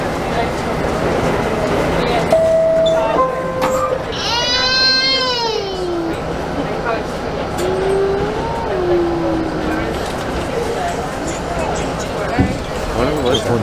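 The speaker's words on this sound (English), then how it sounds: "This is the Bronx bound C train." An R68 subway car on the New York C line rumbles and squeals between stations, steady track roar with rising and falling wheel screeches and sharp tonal whines, while voices talk nearby.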